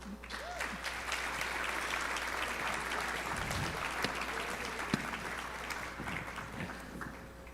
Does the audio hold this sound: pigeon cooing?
no